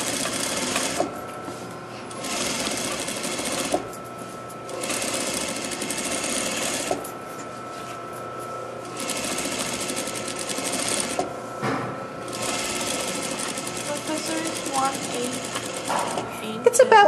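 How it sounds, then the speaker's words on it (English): Sewing machine stitching down a pressed seam: steady mechanical whirring runs in several bursts separated by short pauses, close and fairly quiet, with a person talking over parts of it. "slowly and carefully sew down the seam."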